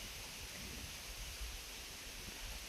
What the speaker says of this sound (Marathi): वारं सुटलंय भरपूर, वाऱ्याचं आणि थोडं पाऊस पण चालू आहे, अंगावर टिपके पडतात